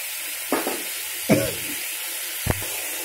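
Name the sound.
frying spice paste in oil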